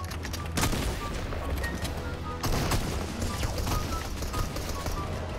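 Rapid repeated gunshots from gray pistols in Fortnite, a dense fusillade of sharp cracks heard nearby with more distant shots mixed in, continuing for several seconds at a steady loud level.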